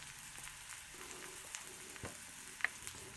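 Green peppers and onions sauté in a cast iron pan with a soft, quiet sizzle and a few faint clicks and taps from a utensil over about three seconds, with no talking.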